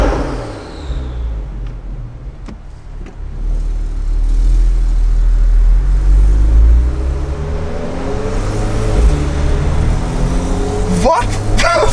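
A Stage 2 Porsche 911 Turbo with an Akrapovic exhaust downshifts and revs under a highway overpass, a loud, close engine roar that swells and holds before a sharp burst of pops near the end.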